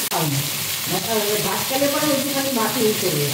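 Spice paste with tomato, chilli, turmeric, coriander and Kashmiri chilli powder sautéing in a pan, a loud close sizzle with stirring scrapes, a voice running over it.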